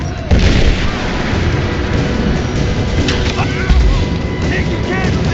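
Gunfire and explosions ring out in the Rise of the Tomb Raider video game, with a deep boom opening a dense, continuous stretch of rattling shots and further blasts, loud and close, while voices shout over the fighting.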